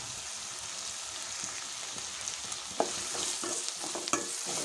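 Diced carrots and potatoes sizzle steadily in a pan while a spoon stirs them, with a few soft scraping knocks near the end over the constant hiss.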